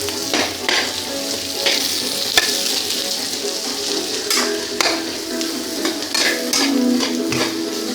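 Beef sizzles loudly and continuously with green chillies and curry leaves in a Kerala-style nadan beef fry, broken by several sharp clinks and scrapes from stirring.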